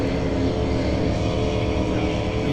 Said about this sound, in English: those boats sound good coming into that corner